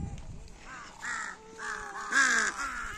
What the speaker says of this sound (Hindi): ये देखिए यहाँ पर कितने कौवे आ गए।